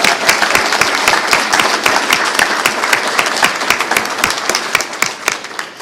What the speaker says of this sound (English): Let's give her another hand.